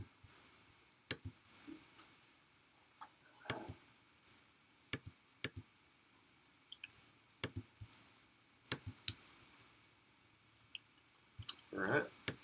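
Sharp, isolated computer mouse clicks from a WordPress editing session, spaced irregularly across the span, some single and some in quick pairs, close and fairly quiet, with a brief rustle near the end.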